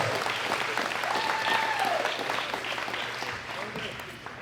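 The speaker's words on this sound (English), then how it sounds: "Give all our lifters a big round of applause" A crowd at a world classic powerlifting championship applauds the lifters, sustained dense clapping and cheering that stays steady throughout.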